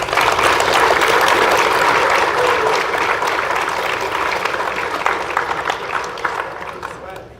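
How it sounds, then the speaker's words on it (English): A crowd applauds at a career and technical education awards ceremony, with loud, sustained clapping that slowly tapers off over about seven seconds. "Let's give them a round of applause."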